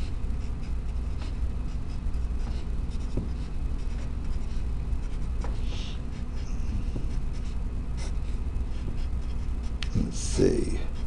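Pen or marker writing on a surface while working a simplex method math example, soft scratchy strokes that come and go under faint background noise, close to the microphone.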